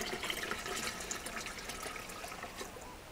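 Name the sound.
water poured into automatic beer brewing machine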